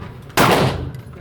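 Pistol fired at an indoor shooting range: a single loud, sharp blast with a booming reverberant tail in the enclosed room, the rapid second shot of the double tap not clearly separated.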